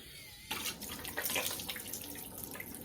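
Warm tap water runs into a sink for rinsing face wash off, starting abruptly and then pouring as a steady splashing hiss with no talk.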